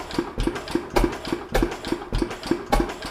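A vintage stationary engine runs slowly nearby, each firing a heavy thud in a steady beat of roughly two per second, with a faint clank on every stroke.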